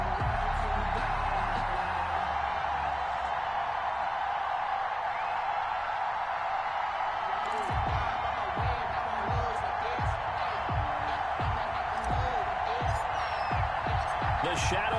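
A stadium crowd roars in the video game Madden 21 before a Denver Broncos versus New York Jets match, a dense continuous wash of cheering with scattered thumps, while a commentator talks over it.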